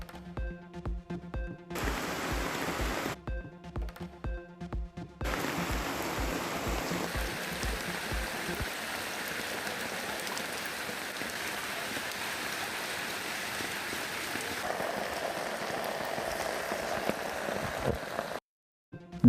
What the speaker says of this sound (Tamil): கொடைக்கானலில் பெய்த மழை காரணமாக சாலைகளில் பெருக்கெடுத்து ஓடும் தண்ணீர்